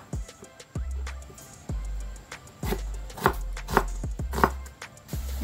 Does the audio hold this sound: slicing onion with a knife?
yes